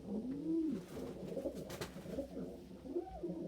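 A pet pigeon or dove coos softly indoors in a series of low, rolling calls that rise and fall, close to the microphone and steady throughout.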